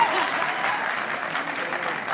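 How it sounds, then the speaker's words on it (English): Audience clapping at an entrepreneur awards event, a steady, even burst of applause from many hands that holds at a constant level throughout. "One applause,"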